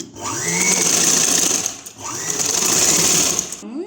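A sewing machine stitches sleeves onto a long umbrella frock in two loud, steady runs with a short pause between them, close by.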